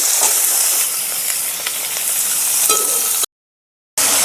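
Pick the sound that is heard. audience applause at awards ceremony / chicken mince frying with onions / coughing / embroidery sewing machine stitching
chicken mince frying with onions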